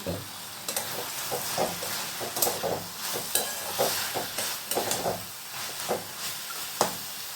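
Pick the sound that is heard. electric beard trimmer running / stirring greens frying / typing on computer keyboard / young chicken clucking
stirring greens frying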